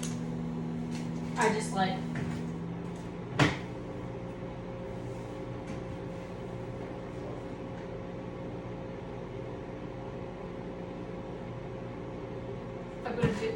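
A microwave oven runs to soften a stick of butter for oatmeal cookies, giving a steady low hum with a few clicks and knocks. A voice speaks briefly near the start.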